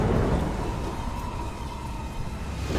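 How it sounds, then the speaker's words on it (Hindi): Thunder and heavy rain used as a story sound effect: a low rolling rumble over a dense, steady hiss of downpour, loud and continuous, swelling slightly at the start and end, with no voices. "बिजली चमकती है, जोरदार बारिश शुरू हो जाती है।"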